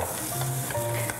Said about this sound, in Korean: 새우하고 돼지고기는 다 익혀주시고